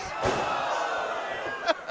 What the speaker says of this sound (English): And the action's getting dangerously close as BHK knocking over our monitors.